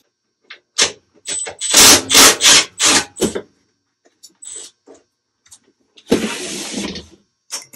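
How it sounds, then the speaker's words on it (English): Belt cover bolts come off a Craftsman snowblower as a power tool buzzes in several short close bursts, followed by brief clicks and one longer whirring run. "we'll take this belt cover off"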